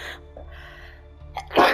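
A single close, loud sneeze bursts out at the end, following a quiet stretch of low background hum.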